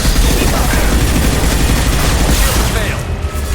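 Sustained heavy weapon fire in Mass Effect 2, a dense, continuous loud barrage of rapid shots and booming impacts throughout, with brief speech mixed in.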